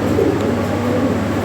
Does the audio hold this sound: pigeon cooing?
yes